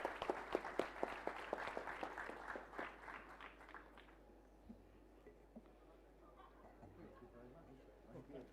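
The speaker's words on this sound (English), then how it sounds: "Can we have a round of applause for Professor Neil and Chef John Wood, please?" An audience at a hospitality and tourism conference gives a round of applause to two speakers, a professor and a chef. The clapping is fairly close and comes in distinct sharp claps, dying away after about four seconds into quiet murmuring and soft voices.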